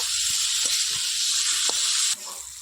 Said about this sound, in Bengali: মাছের মাথা এবার এটা ভালো করে এবার নাড়াচাড়া করব